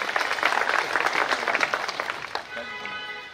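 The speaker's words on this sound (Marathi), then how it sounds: "एकदा जोरदार टाळ्यांचा गजर करायचा आहे." An audience at a public lecture applauds in a dense burst of clapping that gradually thins and fades, and a voice comes in at the end.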